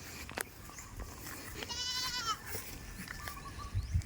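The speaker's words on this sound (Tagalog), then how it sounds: "Ayan, may kambing siya. Ang dami, oh." A herd of goats in the Philippine countryside, one bleating clearly in a wavering call midway, amid faint rustling and scattered outdoor noises.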